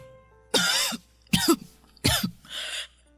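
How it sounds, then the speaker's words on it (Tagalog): Three harsh, hacking coughs in a row, close and loud, each a short burst with pauses between, followed by a softer breathy exhale. "ang tindi ng ubo niyo."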